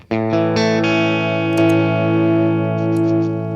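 An electric guitar through an Empress Compressor pedal and overdrive plays a smooth, compressed overdriven chord that sustains evenly, with a few light pick attacks and string noise along the way.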